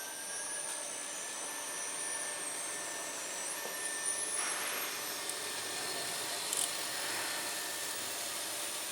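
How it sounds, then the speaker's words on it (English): Blowers running on a BEcom conical dough rounder, a steady, even whirring hum with a faint high whine, constant and fairly close throughout with no talking. "We're going to turn the blowers on."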